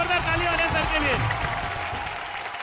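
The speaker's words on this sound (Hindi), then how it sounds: "चलिए एक बार जोरदार ताली हो जाए सर के लिए।" Comedy show audience claps and applauds for a guest, a dense burst of clapping that continues under a voice and gradually softens.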